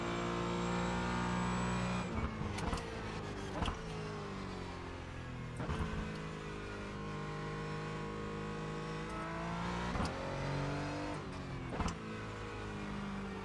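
Porsche Cayman GT4 engine in a racing sim game, a sustained loud drone with steady pitch sweeps as the car climbs and drops through the revs, several sharp gear shifts and lift-offs marking the run.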